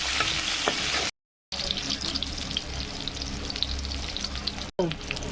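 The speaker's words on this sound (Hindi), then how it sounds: "प्याज डाल रहे हैं, प्याज को लाल कर दीजिए।" Chopped onions frying in a pan for an egg and potato curry, a dense, continuous hiss of sizzling oil held close and steady, with two brief dropouts to silence.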